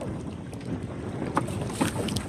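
Strong wind buffets the microphone while paddling a small boat at sea, a steady rushing roar broken by a few sharp gusts and knocks.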